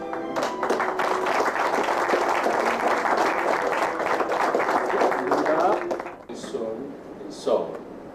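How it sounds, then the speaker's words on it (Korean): A forum audience at the 2013 Seoul Conference on Cyberspace youth plenary breaks into dense, sustained applause for about six seconds. The clapping then fades, and a voice is briefly heard. "박수 한번 같이 주세요"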